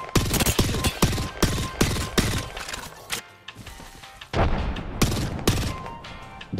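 Rapid bursts of video game gunfire in an online shooter, loud, close and sharp, firing in quick volleys with a brief lull before another heavy fusillade.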